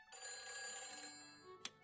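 A telephone rings in the Nancy Drew video game, a steady electronic trill holding for about a second, then a brief sharp click as it is picked up.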